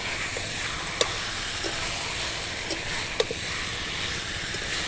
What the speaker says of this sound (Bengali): মাংসটা ভালো করে কষিয়ে নিতে হবে।